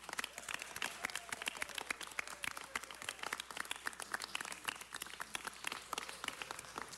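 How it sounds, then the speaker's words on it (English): Audience applause in a hall at Los Angeles City Hall, steady dense clapping from a crowd, moderately distant and sustained throughout without talk. "So let's give them a big round of applause."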